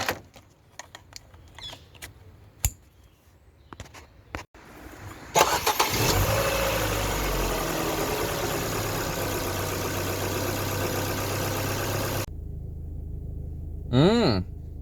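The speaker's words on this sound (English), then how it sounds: "we will cut to, again, trying to start the car." A Ford Focus MK1 with a rich fuel trim fault cranks and starts after some clicks and handling noises, then idles loudly before cutting off. A brief rising whine follows near the end.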